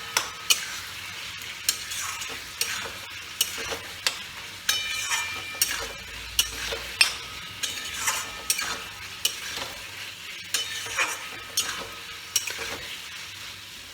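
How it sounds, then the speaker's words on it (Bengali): Tomatoes go into potatoes frying in a pan for snakehead fish curry, a steady sizzle overlaid with regular scraping stirs of a spatula, loud and close with no talk. "এবার আমি টমেটোগুলো ছেড়ে দিলাম।"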